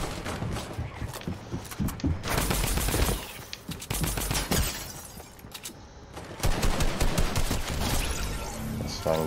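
Video game gunfire in Fortnite, bursts of rapid automatic shots and single cracks coming in clusters at moderate volume, with a quieter lull in the middle before another loud burst.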